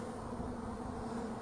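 Honey bees buzz steadily during a hive inspection in Trinity, North Carolina, a continuous close drone holding an even level for the whole stretch with no talk.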